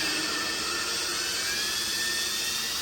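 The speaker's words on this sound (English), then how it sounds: "at a slow speed, you're gonna pull on the valve and put some pressure on the seat so it grinds it" A valve being lapped onto its seat in an LS cylinder head makes a continuous, loud, high-pitched whining grind that holds steady and close throughout, with no speech.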